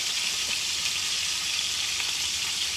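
Biscuits from a bag sizzle steadily in a hot pan after being flipped, a continuous close, even frying hiss with no pauses.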